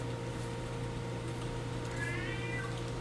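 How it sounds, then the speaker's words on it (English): A house cat gives a faint, drawn-out meow late in the stretch, rising over a steady low tonal hum in the background. "I hear one of my cats meowing"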